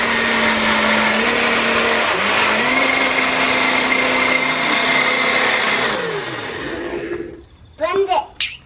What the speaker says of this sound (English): Blend it. You have to blend it.